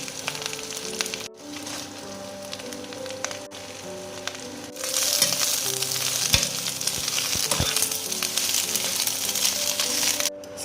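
Cabbage with shallot being stir-fried in a pan for a vegan dish, a close, steady sizzle that jumps louder partway through as the cabbage goes in, with occasional stirring knocks.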